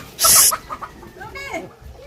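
A chicken lets out a sharp, loud squawk followed by a few quick, agitated clucks as a dog chases it, close by and with no clear talking over it.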